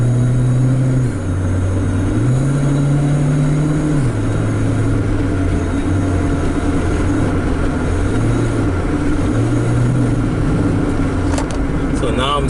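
Mitsubishi Lancer engine with a stuck brake switch and lost power, running steadily while driving, its low hum shifting pitch in slow steps over a constant road rumble.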